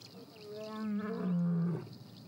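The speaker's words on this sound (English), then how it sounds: "He's responding, sending out a powerful roar." A male lion lets out a deep, powerful roar that swells and fades over about two seconds, heard alone at a moderate distance in the wild.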